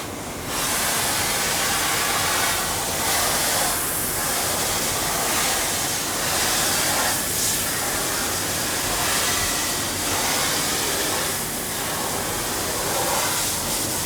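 Water sprays steadily onto a screen printing screen, a loud, continuous close-up hiss that holds for the whole stretch with small surges as the spray shifts.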